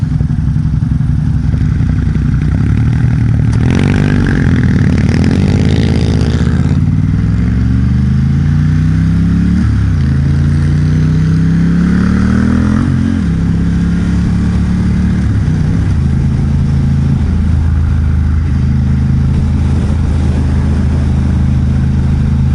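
A 2021 Ducati XDiavel Dark with a Vandemon exhaust fitted with dB killers rumbles loudly while riding. The engine revs rise and fall through several gear changes, with steady wind noise in the background.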